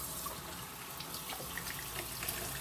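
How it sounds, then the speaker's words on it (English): Running tap water pours steadily over a mat being rinsed under a kitchen faucet while cooking, a continuous close splashing hiss with no talk. "I'm just rinsing off my mat."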